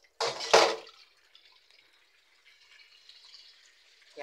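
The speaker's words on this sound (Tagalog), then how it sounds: "Lagyan natin tubig." Water splashes into a cooking pan for spaghetti in two quick, loud bursts, followed by a faint, fading trickle and then near silence.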